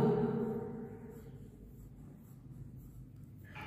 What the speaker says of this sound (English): Don't lift the pencil